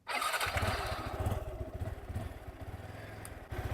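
A Yamaha R15 motorcycle engine running just after starting, with a low, fast, pulsing putter that is fairly faint and close and continues steadily without voices.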